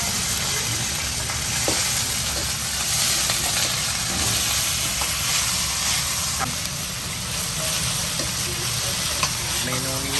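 Mixed vegetables stir-fried in a wok in a Thai made-to-order kitchen in Germany, a loud continuous sizzle and hiss with scraping and tossing bursts throughout, steady and close.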